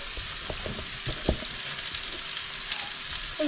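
Food fries in a pan in a village kitchen, giving a steady bright hiss and crackle with occasional sharper pops and light clinks of utensils, close and continuous.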